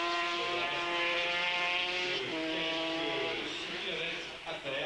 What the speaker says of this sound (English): Down 3 gears to 3rd gear.